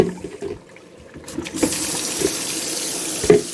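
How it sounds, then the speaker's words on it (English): A kitchen tap runs as soaked lima beans are rinsed, starting with a faint trickle and then changing to a loud, full, steady rush of water splashing close by. "we're just going to rinse them, strain them, and rinse them"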